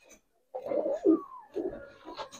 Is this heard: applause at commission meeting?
no